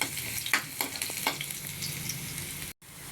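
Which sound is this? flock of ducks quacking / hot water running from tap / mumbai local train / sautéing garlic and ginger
sautéing garlic and ginger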